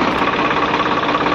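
Farmtrac 60 tractor engine labouring under the load of a 6-foot rotavator, a steady loud diesel drone with a rough knocking rumble throughout, close and continuous with no pauses.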